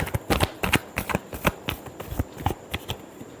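A deck of tarot cards is shuffled close up in quick, crisp riffling flutters, with a rapid sequence of snapping strikes that thin out toward the end.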